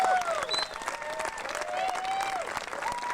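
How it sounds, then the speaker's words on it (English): Crowd applause for the top five male riders at a UCI mountain bike World Cup, with cheering voices and whoops rising over the clapping, fairly distant and continuous. "how about a round of applause for our top 5 male riders in the Grundig UCI World Cup"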